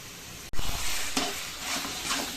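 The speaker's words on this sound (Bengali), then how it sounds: "চিনিটা দিয়ে ভালো করে একটু ঘেটে নেব।" Taro greens being stirred in a pan after sugar is added, a soft sizzle with a sharp scrape of the spatula followed by several lighter stirring strokes, close and alone with no talk.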